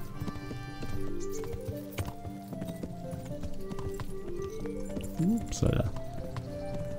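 Horse hooves clip-clop at a walking pace in the video game Kingdom Come Deliverance, with a brief whinny near the end, all under someone talking.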